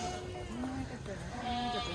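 Arabian sheep bleating at a zoo park and resort in Abu Dhabi, a few wavering calls rising over busy background chatter and people talking nearby.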